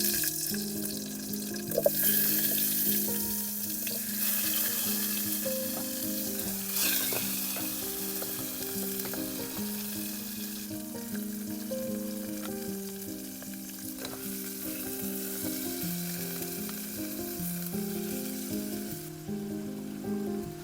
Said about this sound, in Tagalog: narinig ko yung tunog ng kulo ng pagkain.